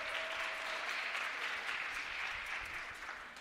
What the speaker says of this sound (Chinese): 给她一个掌声。